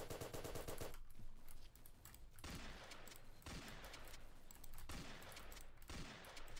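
Automatic weapons fire continuously in the Island Royale game, a fairly faint but dense, unbroken rattle of shots with slight shifts in intensity and no talking.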